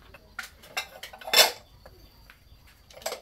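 Ceramic bowls and metal pots are stacked one on another in a home kitchen, giving a run of irregular clinks and clatters with one loud crash of dishes near the middle, close by, and no talking.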